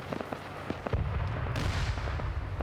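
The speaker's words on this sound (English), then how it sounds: "Grenades being thrown up." Grenades burst during an Arma 3 OFCRA PvP match: a string of sharp distant pops and cracks gives way to a heavier thumping explosion and a sustained rumbling roar.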